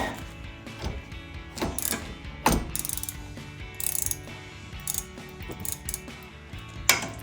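Ratchet wrench loosening a 14 mm rear brake caliper bolt on a 2015-2023 Mustang EcoBoost, giving rapid clicking pawl bursts in repeated strokes with short pauses, close and fairly loud.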